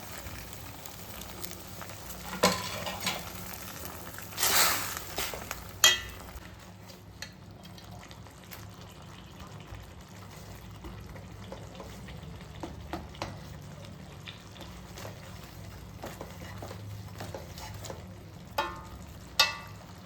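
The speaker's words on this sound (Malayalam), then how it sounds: "ഈ സംഭവങ്ങളെല്ലാം കൂടി ഇളക്കി നമുക്ക് ലഡു ആക്കിയെടുക്കാം" Nuts, dates and raisins are stirred together in a pan for healthy laddoo, giving soft scraping and faint sizzling with scattered clicks of a spoon against the pan, quiet and steady, with no voices.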